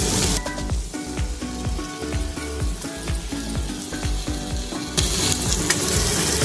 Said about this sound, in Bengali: এবার আমি দিয়ে দেবো টমেটো বাটা